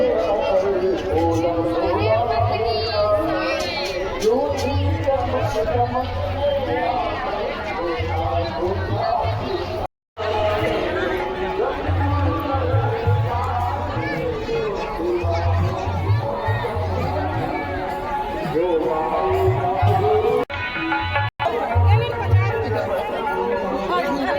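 Dense chatter of a huge crowd at a Kabir Panth saint gathering fair in Bemetara, Chhattisgarh, steady loud babble of many voices with close talk on top.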